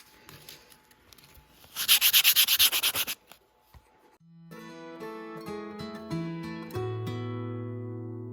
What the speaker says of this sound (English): So I'm using this 800 grit, and I'm just going to sand this down